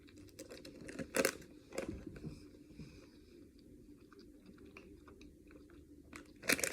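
Close, crunchy bites and chewing on a chewable tablet, with irregular sharp crackles clustered at the start and end and softer mouth sounds between, all fairly quiet.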